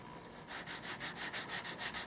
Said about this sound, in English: And now I'm sanding up to where I meet that flat surface right there.